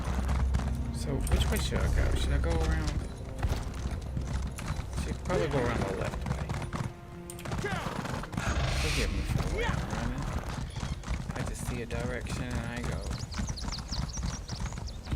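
Rhythmic hoofbeats of a horse clip-clopping along in a video game, steady under a nearly constant voice of someone talking over them.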